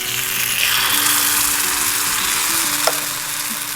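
Kanom krok batter sizzles steadily in a hot, oiled dimpled pan, a loud, dense frying hiss that holds throughout with faint clinks underneath.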